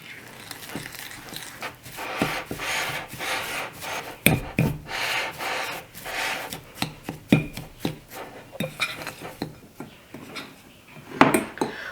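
Melted butter being mixed into ingredients in a bowl for a gluten-free blueberry lemon coffee cake, repeated scraping and rubbing strokes of a utensil against the bowl, close and rhythmic, no talk.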